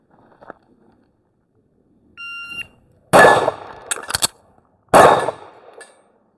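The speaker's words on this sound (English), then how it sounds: "so I shoot one, drop the mag, get the new one, slide forward, another shot" A Steyr L9-A2 pistol is fired during an emergency reload: a timer beep, then a sharp close shot, metallic clacks of the magazine change and slide, and a second loud shot.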